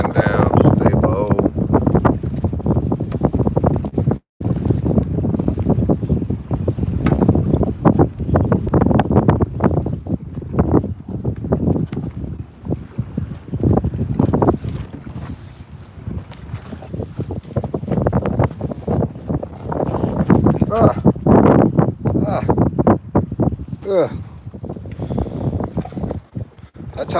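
Strong wind buffets the microphone on board a boat, with a steady roar of wind and water that swells and fades in gusts for the whole stretch.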